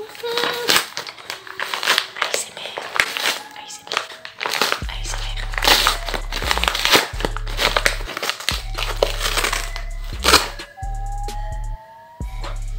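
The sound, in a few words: package being opened, crinkling packaging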